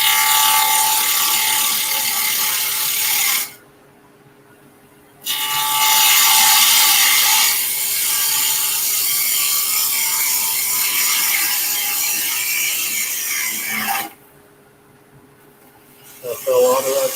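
A woodturning lathe spins steadily at 2,000 RPM, giving a loud, continuous whirring drone that drops out briefly twice and then returns.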